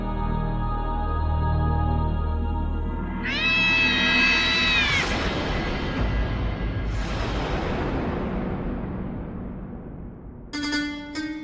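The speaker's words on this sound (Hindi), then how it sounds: "मायरा, ये बिल्ली जरूर उस रियाना की होगी" A cat lets out a couple of long, drawn-out meows, clear and close, over a low steady background with a brief chime-like flourish at the end.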